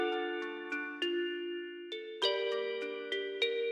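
A celesta-style synth melody using the General MIDI Celeste 2 patch in a dark ambient R&B beat: a clear, bell-like sequence of struck notes with ringing sustains, heard alone and fairly soft.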